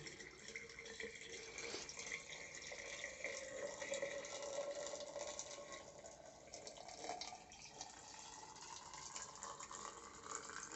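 Water poured from a jug over apples packed into a jar for December-style fermenting, a steady close trickling and splashing stream that runs continuously without a break.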